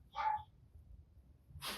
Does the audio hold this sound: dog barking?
yes